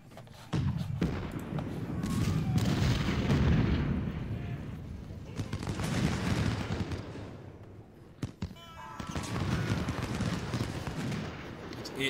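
Cannon and musket fire from a Civil War battle at Shiloh in the strategy game Ultimate General: Civil War, sustained rumbling volleys and booms filling the scene, with someone talking over parts of it.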